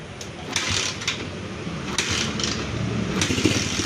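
Honda TMX155 motorcycle engine starting and idling after three weeks dead: a steady close rumble with brief throttle surges, no talking.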